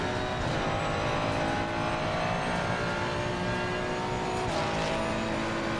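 An Audi race car in Assetto Corsa Competizione sweeps past on its last lap. The engine drones steadily with sustained harmonic tones, a close, continuous pass with no talking.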